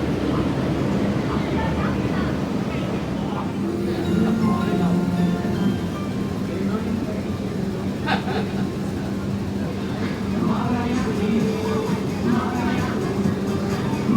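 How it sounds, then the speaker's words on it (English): A train pulls into Tsim Sha Tsui Station with a low, steady mechanical rumble and rolling noise, along with station ambience and a few brief clanks. "This train is arriving way faster this time."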